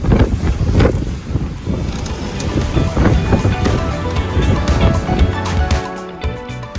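A sailboat pushes through a windy, bumpy sea between Low Isle and Lizard Island, with loud, constant wind buffeting, rushing water and slapping waves, up close and steady throughout.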